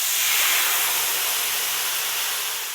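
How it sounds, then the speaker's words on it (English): White wine hits a hot pan that has fish stuck to the bottom, giving a loud, steady sizzling hiss that fades slightly over about three seconds, with no talking. "in order to release that, we're going to throw some white wine in there"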